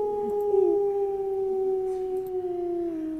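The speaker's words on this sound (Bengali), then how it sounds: "কুকুরের কান্না" A dog howls mournfully outside at night, one long drawn-out wavering cry that holds and slowly falls in pitch for several seconds, moderately loud against a quiet background.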